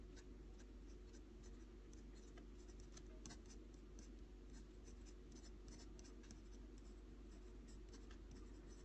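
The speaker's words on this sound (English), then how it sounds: "fact, I should pencil it in." Pencil scratches steadily across paper while letters are written into a comic word balloon, a faint, continuous scratchy patter with small rhythmic strokes over a constant low hum and no talking.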